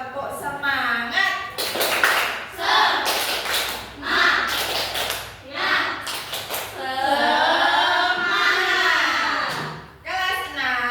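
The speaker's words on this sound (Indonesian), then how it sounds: "Tepuk semangat." A sixth-grade class claps a rhythmic cheer at the end of a lesson, sharp hand claps in patterned bursts mixed with children's voices chanting along loudly throughout.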